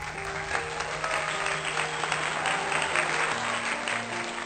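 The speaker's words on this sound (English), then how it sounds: "Kindly give him a loud applause." Warm audience applause greets a speaker at a school golden jubilee celebration, a steady, close wash of clapping from a crowd lasting throughout, with a low hum beneath.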